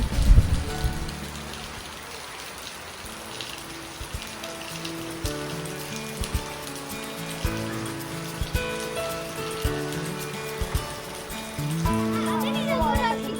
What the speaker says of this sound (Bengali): বাংলাদেশ অনেক বৃষ্টি হয়েছে